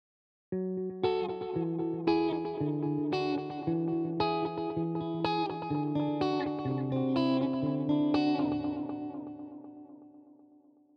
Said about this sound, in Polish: Wybieramy sobie gitarę elektryczną, mamy do wyboru czyste, przesterowane. Oto przykład jednego z nich.